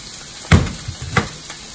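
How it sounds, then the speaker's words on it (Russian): Pork browns in a hot pan with a soft, steady sizzle, broken by two brief louder bursts as the meat is stirred or turned. "Пока обжаривается свинина"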